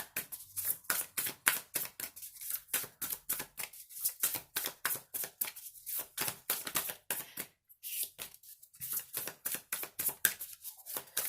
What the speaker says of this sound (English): if you don't want to watch me shuffle